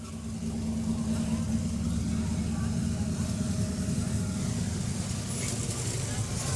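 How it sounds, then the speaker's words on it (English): A Super Sport Camaro rolls past at a Christmas parade, a steady low engine rumble close by that holds even throughout, with crowd and commentary voices running over it. "And here comes this Super Sport Camaro."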